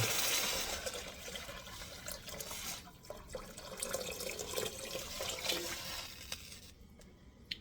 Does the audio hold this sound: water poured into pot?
yes